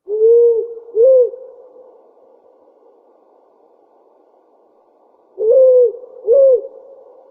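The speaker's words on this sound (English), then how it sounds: "It's that classic sound that you get from the powerful owl." Recorded powerful owl call, two pairs of deep, mellow double hoots separated by a long pause, each pair clear and fairly loud over a low steady background hum, no voices.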